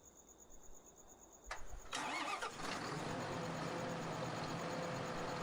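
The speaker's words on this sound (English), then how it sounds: "This is what it sounds like when you start the engine up, drive it around." A John Deere 6630 tractor engine in Farming Simulator 2013 cranks briefly, then catches and settles into a steady mid-pitched idle, heard close and alone after a quiet electronic hum.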